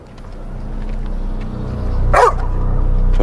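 A dog gives one sharp bark outdoors on a walk toward a cafe, heard over a steady low rumble of traffic and street noise.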